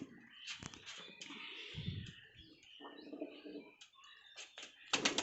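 A Jaunsari pigeon, a female with white eyes, gives soft, low cooing calls mixed with brief chirps and rustles, heard close and fairly faint with gaps between sounds.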